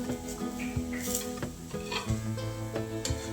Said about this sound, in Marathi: आता दोन्ही साईड छान अशा भाजून घ्यायच्या